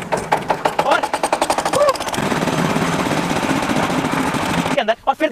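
A concrete mixing machine turns with a television tumbling inside its drum. At first comes a fast series of heavy clanks, then a steady grinding rumble, and clanking returns near the end.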